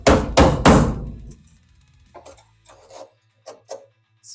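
Metal tapping on a Volkswagen heater channel carpet rail during restoration work: three close, sharp knocks at the start, then sparse lighter taps and scraping, with no voices.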